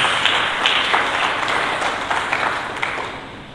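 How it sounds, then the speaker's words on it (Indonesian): A church congregation at a Sunday service breaks into steady, dense applause, a broad wash of many hands clapping that fades slightly toward the end, with no talk. "Berikan tepuk tangan bagi Yesus Kristus."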